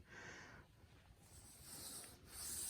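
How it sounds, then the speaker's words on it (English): Steady gritty rubbing and rasping, a back-and-forth grinding scrape of old exhaust valves being lapped by hand on a Ford F-150 5.0L engine, continuous and fairly quiet. "lap in the old exhaust valves"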